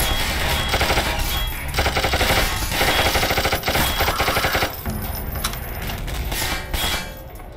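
Rapid automatic gunfire aimed at the player in a Half-Life 2 mod set on Strider Mountain, dense bursts of shots with brief pauses, loud and continuous throughout.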